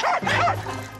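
Dogs in the countryside bark and yip close by, two quick excited barks followed by a whining, whimpering tail, loud and busy.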